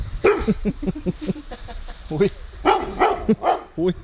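A dog barks several times in short bursts at mid distance, mixed in with people talking casually nearby.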